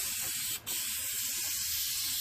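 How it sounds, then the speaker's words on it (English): Rhino bed liner coating hisses from an aerosol spray can onto a Ford Ranger flare-side truck bed, a steady continuous spray with one brief pause partway through, fairly close and alone without talk. "So I'm going to do it just like you would spray a car."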